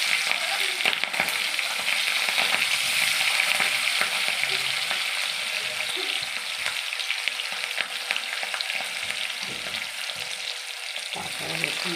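Onions frying in hot oil left over from frying chicken for chilli chicken, a steady close crackling sizzle with stirring scrapes throughout.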